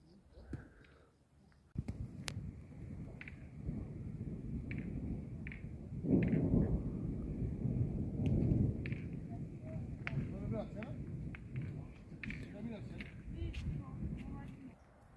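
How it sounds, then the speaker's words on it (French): Thunder booms and cracks on every side during a summer thunderstorm with two storms overhead, loud rumbling rolls and sharp bursts running almost continuously, while voices talk excitedly over it. "Il y a deux orages, c'est un truc de fou. Regardez, ça pète de tous les côtés"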